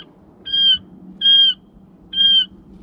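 Quail hatchlings being moved to an outdoor hutch give three evenly spaced, shrill peeping calls, clear and close against a faint low background hum.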